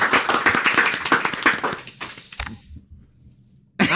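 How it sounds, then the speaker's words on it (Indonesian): A short burst of hand clapping from a small group during a studio show opening, lasting about two seconds before dropping into near silence, then a sudden loud sound at the very end. "Ya, tepuk tangan dulu"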